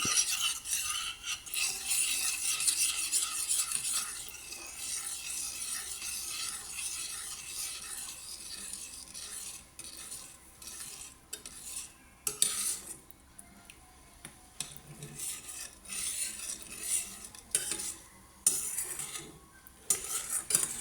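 A spoon scrapes and stirs a thick rice and coconut mixture in a pan as it cooks down, with repeated rasping scrapes and metallic clinks against the pan and no talking.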